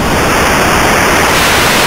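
Dove Audio WTF modular synthesizer noise source climbing in clock rate toward full white noise, a steady loud hiss with high tonal whines that drop away partway through, no voices.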